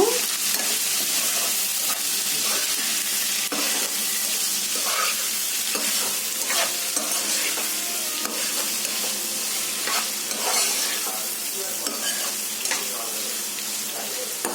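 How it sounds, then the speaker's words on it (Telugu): Cleaned goat tripe being stirred in a hot pan sizzles loudly and steadily, with repeated scraping and rustling strokes of the spoon through the pieces, close up and uninterrupted by speech. "ఇందులో ముందుగా మనం క్లీన్ చేసి పెట్టుకున్న బోటిని వేసుకుందామండి కలుపుకున్నాము"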